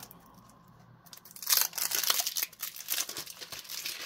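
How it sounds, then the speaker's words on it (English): Plastic wrapping on a makeup case is pulled open, a close, bright crinkling and rustling that starts after a second of near quiet and continues in uneven bursts. "We are undoing more plastic."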